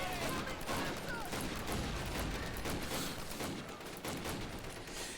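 Dense, continuous gunfire from a World War era battle in Call of Duty: United Offensive, with overlapping rifle and machine-gun bursts filling the whole stretch at steady loudness and shouted voices mixed in.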